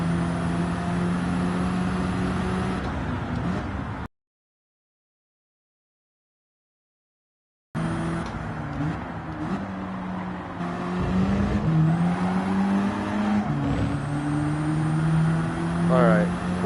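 An Aston Martin DB11 race car engine drones loudly in Gran Turismo 7, its pitch rising and falling through gear changes, cut by a few seconds of silence before the engine note returns under occasional talk.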